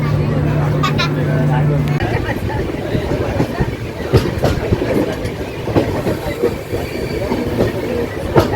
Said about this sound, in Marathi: गाडी दादरला आली आणि